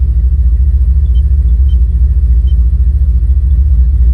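An idling engine lopes with a heavy, rough, pulsing rumble after a fuel table change, loud and close, with an uneven beat throughout and no talk.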